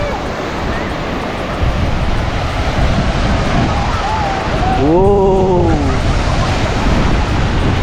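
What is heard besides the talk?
ocean waves on Meron Island shore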